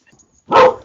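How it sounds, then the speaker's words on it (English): A single loud dog bark bursts out close by after a near-silent moment, one short sharp yap with a brief tail. "I'm so sorry, that's my dog."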